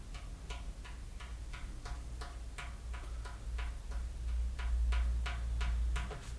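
Soft fingertip strokes on a frame drum, a steady run of light, evenly spaced taps, quiet and close over a low background hum.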